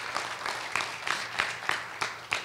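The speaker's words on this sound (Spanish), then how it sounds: "Vamos a dar un aplauso al Señor por nuestras finanzas" Church congregation applause during a Spanish-language Sunday service, a moderate, fairly rhythmic clapping that swells in regular pulses, heard on its own without talking.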